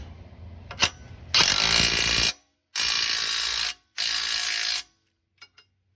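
Ratchet wrench torquing a bolt on a Subaru Crosstrek's Rallitek Overload rear springs, heard as three long, loud, steady ratcheting runs of about a second each, after a single sharp click, with no talking.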